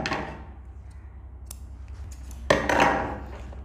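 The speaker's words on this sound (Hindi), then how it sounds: "पहले धागा काट देते हैं" Scissors snip thread while piping is sewn onto fabric, one crisp cut standing out near the end over a steady low hum of a sewing machine or room noise, close and moderately loud.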